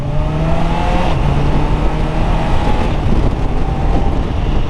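A 2024 Honda CBR650R E-Clutch motorcycle accelerates hard, its engine note rising in pitch through a gear change, loud and close with wind rush over a continuous roar.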